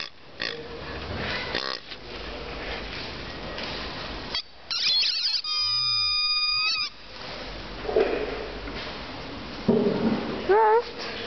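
A dog squeaks squeaky toys: a long, shrill, wavering squeal in the middle, then shorter squeaks near the end, close by over rustling background noise, with a voice heard faintly.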